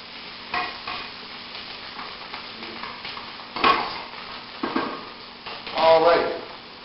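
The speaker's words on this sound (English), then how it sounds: "Let's go ahead and stir this up." Onions sweating in a pot are stirred with a utensil, giving soft scraping strokes and a few louder knocks against the pot over a low sizzle, close by.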